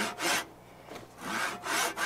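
A crosscut hand saw rips along the grain of wood for knife making, giving about three rasping push-and-pull strokes close up with short pauses between them and no talking.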